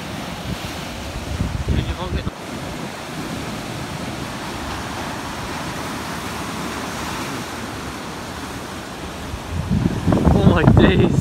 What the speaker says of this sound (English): Look at the sea that's around today, it's going a bit heavy than we actually thought it was going to be.